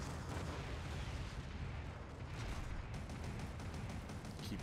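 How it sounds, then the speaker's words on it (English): Gunfire from Gundam Battle Operation, a mobile suit game match between GMs and Zakus, rumbling continuously with dense booming shots and repeated bursts throughout, no voices. "Keep firing while I wait for my machine gun"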